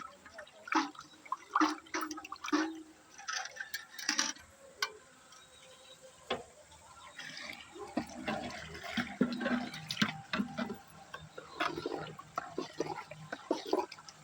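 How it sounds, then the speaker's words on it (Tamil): Prepared ragi (finger millet) mixture poured into a pot of boiling water while making ragi koozh, giving soft, uneven sloshing and liquid splashes that swell and fade, fairly faint and close by. "இந்த சமயத்தில் நம்ம இதை ரெடி பண்ணி வச்சதை அதில் ஊற்றணும்"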